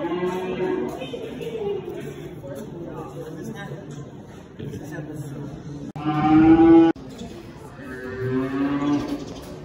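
Bison mooing and grunting amid cattle at an animal auction, low bellowing calls rising and falling throughout, with a louder close call partway through, heard under nearly constant talking voices.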